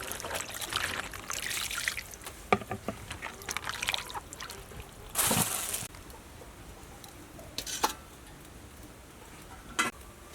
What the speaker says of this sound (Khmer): ឥឡូវខ្ញុំចាប់ផ្ដើមត្រាំពពុះសណ្តែកនេះ